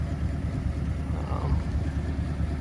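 A 2021 Chevrolet Silverado pickup idles with a steady, deep low rumble and a faint thrumming pulse, loud and close, with no speech over it.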